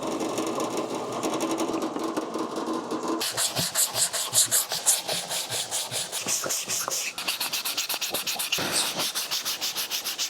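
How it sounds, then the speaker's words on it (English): Close, rhythmic sanding on wood, quick back-and-forth strokes rasping steadily for several seconds, a brief pause, then more scrubbing passes. "I have given everything a quick sanding just to break the edges"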